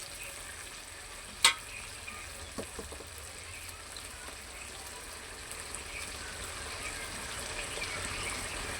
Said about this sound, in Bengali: পেটের টুকরোগুলো তোমার মাংসের সাথে দিয়ে কষাচ্ছে